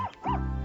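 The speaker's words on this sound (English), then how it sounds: "this is my dog, Toto" A cartoon dog gives a loud, close yelping bark that slides into a sustained whining cry, heard alone with no talk over it.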